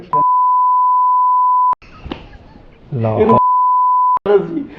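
Two long, loud, steady censor beeps cover words in a conversation, and people talk between them.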